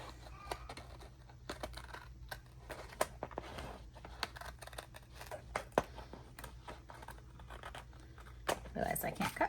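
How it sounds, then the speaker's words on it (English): Scissors trimming excess sticker material on a planner page, giving a run of small soft snips and crisp clicks with quiet rustling, faint and close, with low talk in the background. "All right, so I'm going to cut the excess off."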